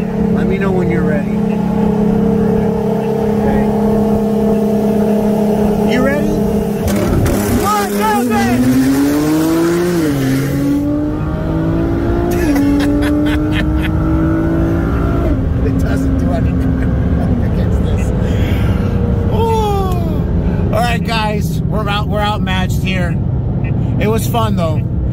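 A 2016 Porsche 911 Turbo S with full bolt-ons on 93 octane and methanol races a 2013 Nissan GT-R with bolt-ons on E85, using rolling anti-lag from second gear; loud, close engines rise through the gears with rapid shifts while people talk over them.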